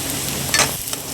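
Turmeric and spices being stirred in a frying pan while cooking carrot rice, giving a soft sizzling scrape with a brief louder stir in the middle.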